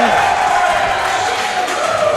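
A crowd at a boxing match in Melrose cheers in a brief, steady roar of massed voices lasting a couple of seconds.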